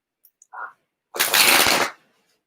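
Tarot cards being shuffled in a single dense, crisp riffling burst lasting under a second, close and fairly loud, preceded by a couple of small taps and a brief handling noise.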